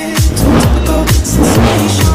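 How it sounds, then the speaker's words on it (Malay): Car fitted with a Tomei exhaust revving hard, loud and close, with repeated throttle blips and rasping bursts in quick rhythm, no voices. "korang dengar bunyi exhaust ni"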